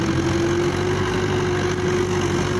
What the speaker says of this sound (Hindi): ये हमारे घर का ही ट्रैक्टर है, महिंद्रा 475 DI